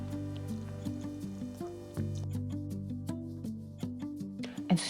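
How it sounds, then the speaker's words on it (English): Silky sauce is poured over cooked vegetables and macaroni, giving a soft, continuous wet pouring with small squishy splatters, close by and alone over a steady musical background. "then I pour it over the veggies and macaroni"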